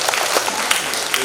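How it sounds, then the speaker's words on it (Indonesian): Brief audience applause at a Balinese spiritual gathering, a short, lively patter of many hands clapping with a voice heard faintly underneath. "tepuk tangan dong."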